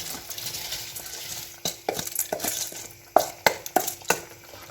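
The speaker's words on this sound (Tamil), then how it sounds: "அரிசியை போட்டு நல்லா இந்த மாதிரி மிக்ஸ் பண்ணிக்கொள்ளுங்க." Raw rice being stirred into a pot of simmering soya meat for biryani: a soft wet sizzle with a run of sharp utensil scrapes and knocks against the pot, growing louder and more frequent toward the end, no voices.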